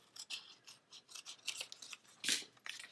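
Small snips and rasping cuts of scissors trimming paper in a Classic Happy Planner, a quick irregular run of soft close clicks with one sharper snip near the end, no voices.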